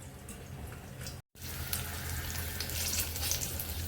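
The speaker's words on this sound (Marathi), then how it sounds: "स्लो गॅसवरतीच आपल्याला पनीर चांगलं फ्राय करून घ्यायचं आहे" Paneer frying in a covered pan on a low gas flame, giving a faint, steady sizzle and crackle that runs continuously apart from a brief cut.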